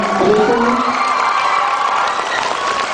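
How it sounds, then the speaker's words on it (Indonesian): Seminar audience in Pekanbaru cheering loudly, a dense, steady crowd roar of shouts and whoops with little distinct clapping, sustained close and full throughout. "Mohon berikan tepuk tangan untuk sahabat saya Irwan."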